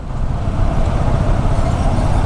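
Dense midday road traffic in General Santos City at about 1 PM rumbles as a loud, continuous low roar of engines, with no talk over it.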